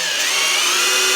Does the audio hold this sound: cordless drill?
yes